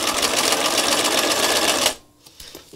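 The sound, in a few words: sewing machine stitching a fabric spiral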